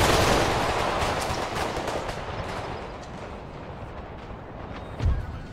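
Rapid bursts of canister-shot cannon and musket fire in Empire: Total War crackle together at a distance, fading slightly over time, with a heavier thump near the end.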